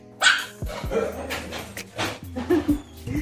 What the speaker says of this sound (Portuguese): Esse aí são os meus cachorrinhos.